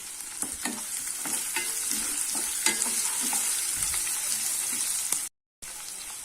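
Onion and green chili sautéing in a pan with curry leaves for peanut sundal. A loud, continuous sizzle is heard close up with frequent scraping and stirring knocks, and it cuts out briefly near the end.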